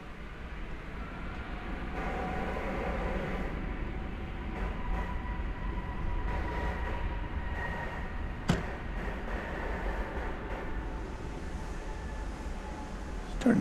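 American Airlines Flight 633 from Phoenix arriving at night at DFW Airport, a steady jet rumble with a whining engine tone holding through the whole stretch, fairly loud and near, with no talk over it.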